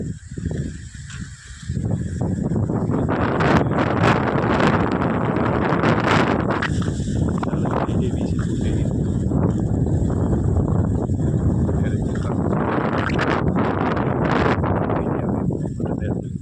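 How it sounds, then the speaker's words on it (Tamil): Strong wind roars into the microphone in continuous buffeting gusts, loud and close, after a brief quieter start, at the foot of a hill near Bodinayakanur, Theni district, among coconut and casuarina plantations. "காற்று வீசிக்கொண்டே இருக்கு."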